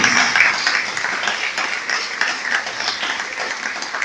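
A church congregation at a youth service breaks into sustained applause, a dense wash of many hands clapping at moderate level with no speech over it.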